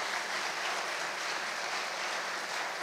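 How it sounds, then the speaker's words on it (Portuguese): A church congregation applauds in a steady, even wash of many hands clapping, moderately distant and without talk over it. "Vamos aplaudir essa geração abençoada."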